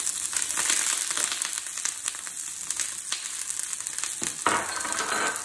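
Purple broccoli caramelizing and charring in a hot pan, giving a steady, close sizzle with fine crackling throughout and a brief louder spit near the end.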